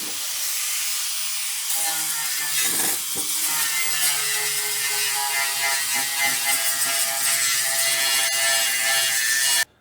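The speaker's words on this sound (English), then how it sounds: "Grind them out and get this piece. Let's grind right in this area here," A grinder cutting out spot welds on the steel bed side of a 1965 Chevrolet C10 pickup, a loud continuous high-pitched metallic whine with shifting pitch as it bites, steady for nearly ten seconds before stopping abruptly.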